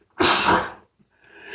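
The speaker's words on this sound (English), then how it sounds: "damn, I never sneezed on the podcast before." A single loud, close sneeze bursts out and fades within half a second, followed by a brief quiet gap and then a soft breathy exhale, during a casual podcast recording.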